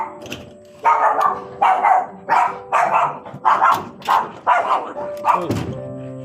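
A dog barks repeatedly at close range, about eight sharp, evenly spaced barks with brief pauses between them.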